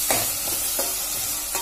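Onions sautéing in a pan for an egg curry, a steady close sizzle with a spoon stirring and scraping at regular intervals, no voices.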